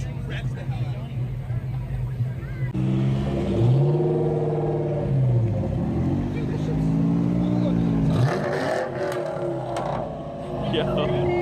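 At a car meet, a car engine is revved hard in repeated rising and falling bursts, loud and close, while people chatter nearby.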